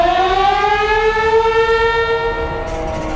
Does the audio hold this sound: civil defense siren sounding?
yes